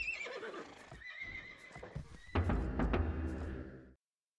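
A horse in a medieval real-time strategy video game gives a loud, close whinny, followed by a burst of clip-clopping hooves, heard alone for about four seconds before cutting out.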